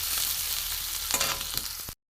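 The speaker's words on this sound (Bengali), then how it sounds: "একটু ভালো করে ভাজবো পেঁয়াজটাকে" A steady, crackling sizzle of onions frying in hot oil, with a few soft scrapes of stirring near the end before it cuts off.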